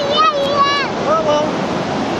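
Ocean waves wash in at Pacific Beach with a steady broadband rush and wind buffeting the microphone, while high, sing-song voices talk over the surf.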